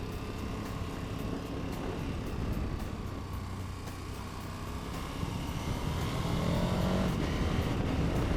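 A KTM Super Adventure 1290 S motorcycle rides along with a constant engine drone under wind rush, its pitch rising and settling through gear changes with the quickshifter working low in the revs.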